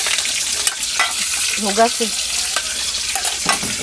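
Fish fries in hot oil, a dense, steady sizzle and crackle filling the whole stretch at close range, with a brief voice speaking in the middle.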